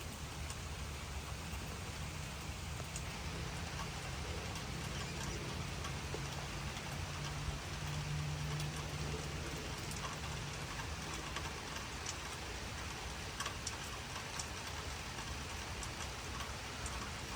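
Continuous rain falls outside in Charlotte, North Carolina, during more than a day of nonstop rain: a soft, even patter and wash that holds steady and fairly faint throughout, with no voices.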